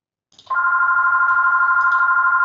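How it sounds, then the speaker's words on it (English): A phone ringing indoors, a steady electronic tone that starts abruptly and carries on alone, close and loud. "that's my phone ringing"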